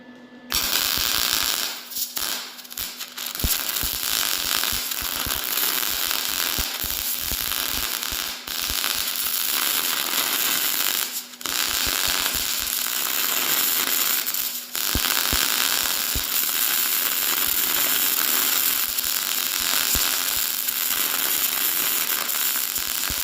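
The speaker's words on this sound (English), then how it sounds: "So I'm going to go dial up my welder and let's continue welding" A welder lays beads on a homemade plow for a Yamaha Big Bear ATV, giving a loud, steady crackling sizzle with brief breaks and pops throughout.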